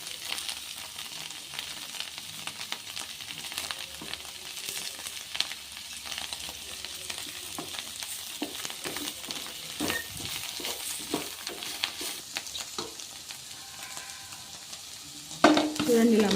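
Sliced bitter gourd fries in a pan while a spoon stirs it, a low steady sizzle broken by scraping strokes and light clinks, ending in a louder clatter of utensil against pan.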